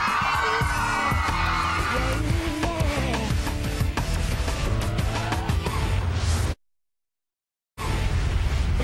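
Concert crowd of about 1,500 cheers and shouts before a pop performance, a loud dense wall of voices, whoops and music that breaks off suddenly into silence, then returns.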